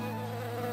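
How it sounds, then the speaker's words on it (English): Cartoon bees buzzing in a steady, close drone with a strong, even hum throughout the short moment, no voices over it. "10 buzzing bees."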